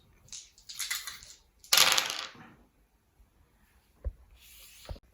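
Dice tumble across a tabletop during a Kill Team wargame between Crimson Fists and Traitor Guard. A quick scatter of light clatters leads into one fuller rattling roll, followed by two isolated clicks a little later.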